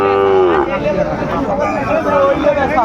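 Cattle low loudly at the start, a long deep moo, followed by busy crowd chatter and background voices of a livestock market in Dinajpur trading Sahiwal bull calves.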